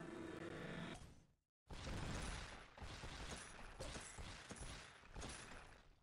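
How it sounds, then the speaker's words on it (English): Disco ball and rocket combo effect from the Toon Blast mobile puzzle game: a burst of dense crackling, popping blasts that cuts to brief silence, then a sustained rattling barrage with repeated sharp hits, loud and continuous. "Disco ball rocket combo"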